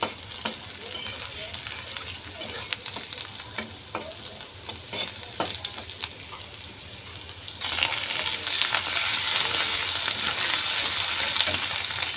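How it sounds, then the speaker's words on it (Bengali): Salted, turmeric-rubbed fish with spices being stirred in hot oil in a karahi, a continuous loud sizzle with scraping stirs, the frying growing louder and denser partway through. "সব মশলা দিয়ে কষিয়ে নিচ্ছি"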